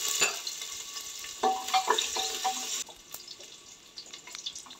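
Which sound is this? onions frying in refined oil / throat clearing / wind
onions frying in refined oil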